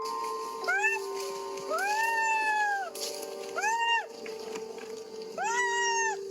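A human voice imitates a cat, giving four drawn-out meows separated by short pauses over a faint steady hum.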